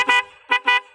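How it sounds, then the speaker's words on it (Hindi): Three short, loud honks from an aftermarket big horn on a Honda SP 125 motorcycle: one, a pause, then two quick blasts close together, near and piercing. "मतलब हॉर्न इतनी तेज है बाइक का"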